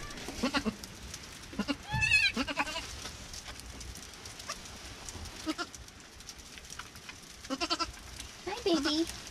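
A newborn black and white baby goat bleats several times in short, high, wavering cries, close by in a barn, with a person speaking softly in between.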